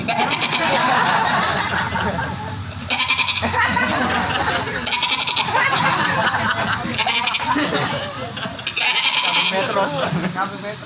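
A voice imitates goats with a run of wavering bleats, delivered loud and close to a sermon audience, with bursts of laughter and talk around the calls.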